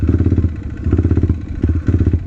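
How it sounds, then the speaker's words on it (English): A motorcycle engine bogging at small throttle openings with a lean pilot jet circuit, chugging unevenly in a rough pulsing rhythm up close, as if struggling to stay running. "Another sign is when it bogs on small throttle openings."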